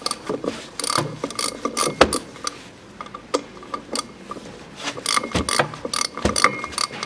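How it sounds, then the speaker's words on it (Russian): Ratchet wrench with an E10 Torx socket undoing the fuel tank shield bolts on a 2011 Range Rover Evoque 2.2, giving rapid close clicking ratchet bursts in irregular runs with brief pauses, no talk. "Головка у нас Е10, как спереди, так и сзади. Болты одинаковые. Берем и откручиваем."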